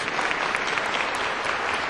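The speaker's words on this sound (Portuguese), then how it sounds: "Vamos dar uma salva de palmas também para todos vocês" Applause from the audience at a solemn council session honoring tutelary counselors, a steady, dense clapping that fills the room without pause.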